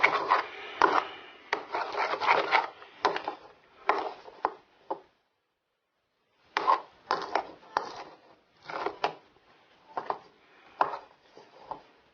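Homemade borax-free slime being stirred, close, irregular scraping and rubbing strokes in bursts with a short pause midway, no talking.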